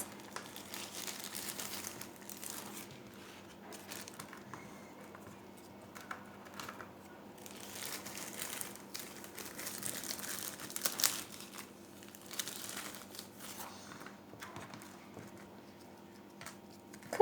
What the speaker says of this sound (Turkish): Kurumuş olan kayısılarımızı kilitli poşete koyacağız